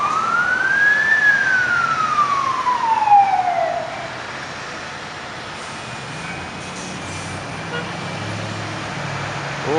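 A Montreal fire truck siren wails in the NDG neighbourhood as the truck responds, one long rising and falling sweep that fades, with traffic rumbling underneath for several seconds.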